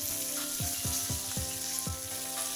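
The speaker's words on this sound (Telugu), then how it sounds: "ఒక అర చెంచా జీలకర్ర, కొద్దిగా కరివేపాకు, పచ్చిమిరపకాయలు, పుదీనా ఆకులు వేసుకొని ఒక్క అర నిమిషం పాటు ఇలా వేయించుకుంటే సరిపోతుంది" Cumin, curry leaves, green chilies and mint leaves fry in hot oil, a continuous close sizzle with several evenly spaced stirring scrapes over a faint steady hum.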